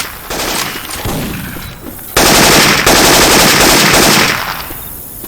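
Syphon Filter weapon sounds fire in Left 4 Dead 2: loud, sustained automatic bursts, a steadier stretch followed by a more intense, dense volley, up close and dominating the mix.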